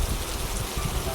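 Steady rain hiss fills a quiet space, a soft, even wash of falling drops with a low rumble underneath, constant and unbroken throughout.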